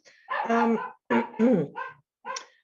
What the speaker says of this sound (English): my dogs are barking at somebody